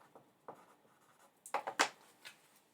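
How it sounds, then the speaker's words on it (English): Pen or pencil scratching on paper while the time is jotted down by hand, a few faint scrapes at first, then a quick cluster of louder close strokes, alone in a quiet room. "I'm just going to write down the time quickly here."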